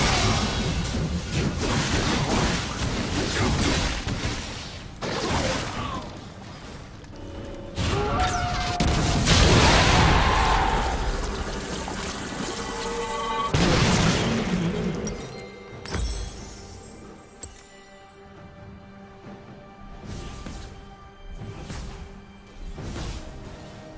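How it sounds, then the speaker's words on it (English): A turret is destroyed in League of Legends, with loud crashing and rumbling game effects that surge and fade before ringing tonal chimes and music take over. "Your team has destroyed a turret."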